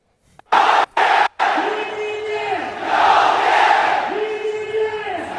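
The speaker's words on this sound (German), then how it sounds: "das sind die Jubelbilder, nachdem das chinesische Team gewonnen hat" Chinese fans cheer and shout together after their team wins a championship, a roaring crowd that swells in waves, opening with a few sharp cut-off bursts.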